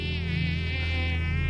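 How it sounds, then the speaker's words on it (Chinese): A mosquito whines close by in a room on a hot, stuffy night, a continuous high buzz that wavers slightly in pitch with nothing else behind it. "屋子里有只蚊子，嗡嗡的，吵得我一直没睡好。"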